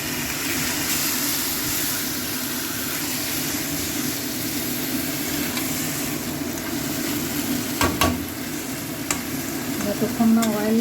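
Chicken curry is sautéed and stirred in a pan, a steady close sizzle running throughout, with scraping strokes and metallic clinks from the spatula growing busier toward the end.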